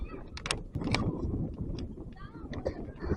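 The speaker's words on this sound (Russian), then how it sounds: "если слышно ветер, то ничего страшного. Ветер у нас дует всегда." Wind buffeting a microphone outdoors in a Sakhalin village, low rumbling gusts with intermittent knocks and clatter, and a voice speaking over it.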